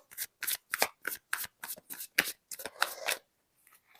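Tarot cards shuffled by hand in a quick run of about a dozen crisp, papery riffles and slaps, close and alone, ending in a short quiet pause.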